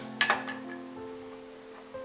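A spoon clinks against a glass bowl while stirring gelatin into cold water, one sharp ringing tap followed by softer scraping and a faint final knock.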